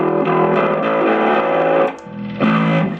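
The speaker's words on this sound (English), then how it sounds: "Then we've got flat out distortion" A loud, gritty distorted note from a cheap bass guitar through a Zoom B2 distortion preset rings out and sustains, briefly drops off, then returns with another heavily overdriven tone.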